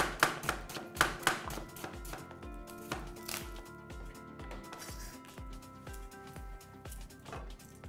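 A knife chops garlic on a cutting board in a home kitchen, quick rhythmic taps close up, speeding into a steady run of sharp, even strikes.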